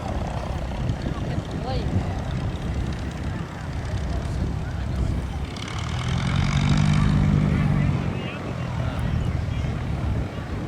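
Lake Buccaneer amphibious seaplane with a 200 horsepower IO360 engine idling on the water to warm its oil, a steady propeller drone that swells louder midway, with a voice speaking over it.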